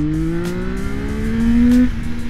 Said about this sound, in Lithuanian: pasižiūrėsime, kaip šis motociklas akseleruoja. 22, gazas dugnas.